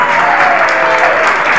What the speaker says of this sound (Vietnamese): Một tràng pháo tay cho Kimbo.